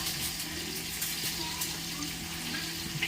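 Tap water running steadily as hands and a kitchen knife are rinsed at a sink during dinner preparation, a close continuous hiss with small splashy variations throughout.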